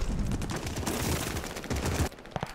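Rapid automatic PPSh-41 fire from the game Call of Duty Vanguard, with dense bursts of shots running almost without a break and a short lull near the end, loud and close.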